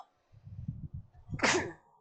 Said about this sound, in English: oh, excuse me, sorry, blood, just sneeze, sorry